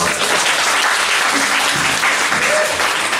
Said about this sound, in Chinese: 再给你们自己掌声鼓励一下吧。